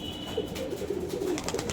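Pigeons at a breeder's home in Krishnanagar, high-flying birds, give a soft, steady cooing with a few rolling, throaty notes over a low background hum.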